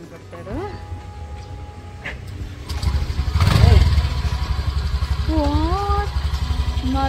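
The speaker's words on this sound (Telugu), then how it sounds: "ఎండ వచ్చింది కదా అని బయలుదేరితే స్కూటీ స్టార్ట్ అవ్వట్లేదు" A scooter being started by a man after days of rain: an engine rumble rises in the middle and settles into a steady idle. Voices and tonal calls sound over it throughout.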